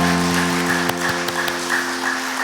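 Applause rises from a church congregation during a Korean autumn faith retreat, a steady wash of many hands clapping together under a sustained tonal hum, with no speech over it.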